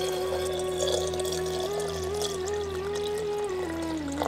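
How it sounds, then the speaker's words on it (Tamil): Water pours steadily into a jar of gooseberries for pickling, a continuous liquid stream with a ringing resonant tone, no talking. "இப்ப நெல்லிக்காய் முழுகிற அளவு தண்ணியை ஊத்தி"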